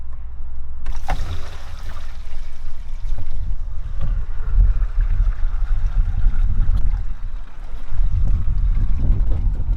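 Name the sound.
RV black water tank flushing after pulling lever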